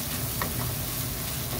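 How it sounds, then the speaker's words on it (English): Dried Thai chili sautés in hot oil, a dense, even sizzle and crackle heard up close for a brief moment without voices. "we saute it in the oil, then you release the flavors"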